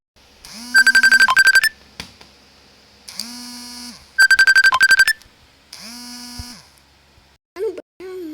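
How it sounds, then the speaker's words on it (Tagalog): A mobile phone rings loudly and close by with an incoming call, playing a repeating electronic ringtone pattern in two identical cycles with brief pauses, followed by a short voice at the end. "Bakit may tumawag pa sa akin yung nanay ko?"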